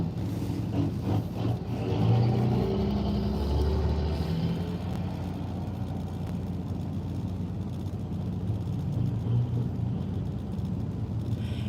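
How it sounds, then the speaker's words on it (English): Cars from a hot rod run in Pigeon Forge, Tennessee drive past on the highway, a steady wash of traffic rumble with engines swelling and fading as vehicles pass. "As they come up to get on the highway, you can see all the cars go by."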